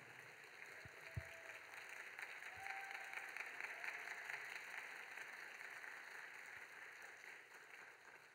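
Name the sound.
church congregation applauding a new minister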